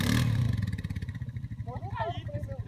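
A quad bike engine on a farm revs as the rider opens the throttle, a throbbing pulsing drone loud at first then settling, with a voice speaking over it.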